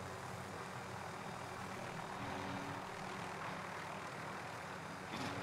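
A bomber aircraft drones overhead in Call of Duty Warzone on the Caldera map, a steady loud engine roar that holds throughout.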